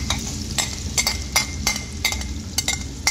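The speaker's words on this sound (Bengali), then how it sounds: "এখন আমরা দিচ্ছি মিক্স ভেজিটেবল," Mixed vegetables stirred in a pan with olive oil, butter and garlic, giving repeated sharp clinks of a utensil against the pan every half second or so over a low sizzle, close and fairly loud.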